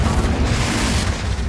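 In Hogwarts Legacy, a Confringo fire spell goes off in a dense, sustained explosive roar. The blast is loud and rumbling with a heavy low-end and stays fairly steady through the burst, with no talk over it.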